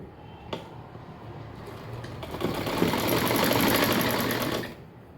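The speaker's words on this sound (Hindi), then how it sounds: "दोनों साइड हम ऐसे ही निशान करके सिलाई लगा लेंगे।" A sewing machine stitches along the side seam of a pair of pants, starting with a click and then running in a steady, close whir for a few seconds before stopping.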